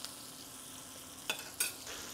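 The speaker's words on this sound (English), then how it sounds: "So these steaks are sizzling hot." Low steady sizzle of steaks searing in a hot skillet, with a couple of brief sharp clinks or scrapes near the end.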